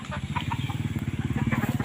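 Gamecocks offered for sale on a farm give rapid, rhythmic clucking close by, pulsing evenly and building slightly in loudness throughout.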